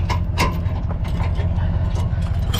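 An Equal-i-zer weight distribution hitch being hitched up to a half-ton truck, with close, repeated metallic ratcheting clicks and clanks over a low mechanical rumble.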